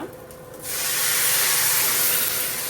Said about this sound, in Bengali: এখন এই যে গরম জল দিয়ে দিলাম